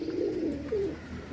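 Pigeons cooing as they settle on a perch, a few soft, low, throaty coos up close, with no talking.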